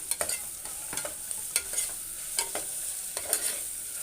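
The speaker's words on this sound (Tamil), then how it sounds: "தக்காளி போட்டுக்கிறேன், இதையும் போட்டு நல்லா வதக்கிக்கலாம்" Tomatoes and onions sautéing in a pan for brinji rice, a soft sizzle punctuated by repeated scraping and clinking strokes of a spoon against the pan, close and irregular, with no talking.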